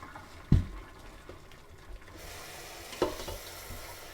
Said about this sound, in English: So now we're going to drain it and wash it with lukewarm water.